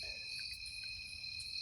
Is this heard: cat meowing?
no